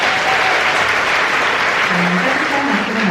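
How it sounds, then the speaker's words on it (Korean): A concert audience applauds steadily and loudly at a Korea–Japan friendship concert, a dense, even wash of clapping with no voices over it. "따뜻한 박수로 맞이해 주셔서 진심으로 감사드립니다."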